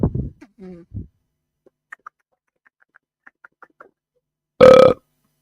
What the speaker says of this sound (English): Oh, excuse me. That's a big burp.